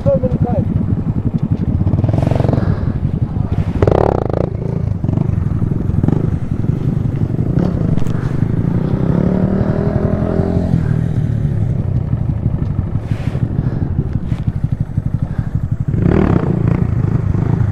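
Motorcycle engine revving and clattering on a strip as a rider attempts a one-foot death spin, steady loud engine noise throughout with people talking and shouting over it.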